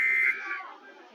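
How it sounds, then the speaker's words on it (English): Fake EAS emergency alert alarm: a loud, steady electronic alert tone holds for about a third of a second, then sweeps down and fades over the next second. "Normie's fake Eas Alarm."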